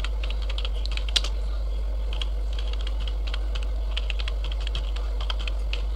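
Light, irregular clicking from a computer keyboard as a pip install command is typed, with one sharper keystroke over a low, constant hum.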